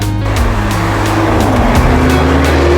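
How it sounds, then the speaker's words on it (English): Lamborghini Urus and BMW X6M super SUVs race side by side, loud sustained engine roar with rising and shifting tones as they accelerate through gear changes, close and continuous with no talking. "Lamborghini Urus vs BMW X6M"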